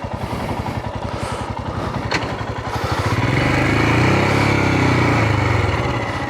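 Adventure motorcycle engine thrumming steadily while riding, a loud, close, continuous drone that rises in pitch as the bike accelerates, with wind noise and no talk.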